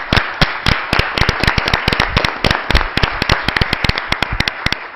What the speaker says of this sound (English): we can clap for Councilor Dubois, who's leaving